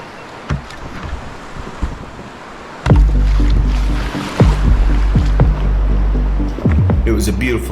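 A Liquid Logic RMX 86 kayak slides and scrapes down a bank into the French Broad River, Section 9, with loud thumps and rumbling hull scrapes, then water splashes and gusty wind noise.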